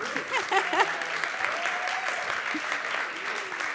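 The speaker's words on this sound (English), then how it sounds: "give them a round of applause" Audience applause at a film screening and cast-and-crew conversation, a steady wash of clapping from a crowd lasting a few seconds, with faint voices and a brief cheer mixed in.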